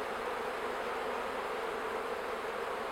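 Buckfast honeybees buzz on a brood frame in a hive in spring, a steady, continuous hum close by with no voices.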